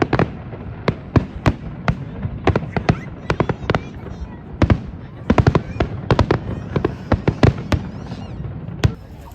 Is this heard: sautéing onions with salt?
no